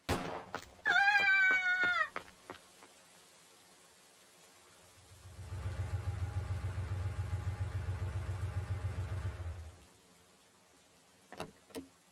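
A cat gives a few loud, close meows in a short burst, followed by a low steady engine-like rumble for several seconds and then quiet, with no speech.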